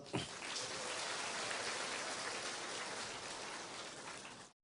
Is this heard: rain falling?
yes